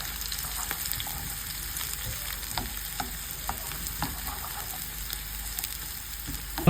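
Leeks sizzle and crackle as they fry in a pan while being stirred, a steady close hiss with scattered pops and scraping stir sounds, no talking.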